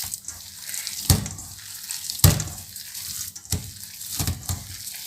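Water runs from a tap during handwashing at a kitchen sink, a steady moderate splash broken by a few sharper bursts as hands move under the stream.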